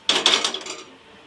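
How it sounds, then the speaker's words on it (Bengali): A metal wok is set down on a gas stove in a home kitchen, a brief close clank followed by a few quick metallic rattles and a short ringing decay. "কড়াইটা বসিয়ে দেবো।"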